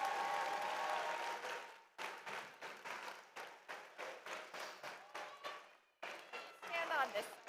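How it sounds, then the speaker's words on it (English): Applause for the judging team as they take position at a 2026 PNW District robotics event in Wilsonville, heard as a burst of clapping that breaks into repeated short rounds, fairly close and moderately loud, with a voice talking over it. "let's give your judging team a round of applause as they step into position"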